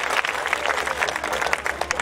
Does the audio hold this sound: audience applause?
yes